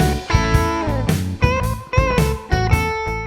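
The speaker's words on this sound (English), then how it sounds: "For our third riff, we introduce some bending and it'll sound like this." Electric guitar playing a blues lick with bent notes that glide up and down in pitch, clear tone with slight distortion, a few short phrases separated by brief gaps, no talking.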